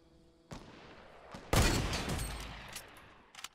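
Hunting rifle fire in the Fortnite Battle Royale video game, a sharp report followed a second later by a much louder, booming shot with a long rumbling tail, ending with a few faint clicks.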